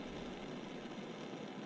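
An Optimus 111B liquid-fuel stove burns with a steady, faint roaring hiss, an even broadband rush with no breaks or voices.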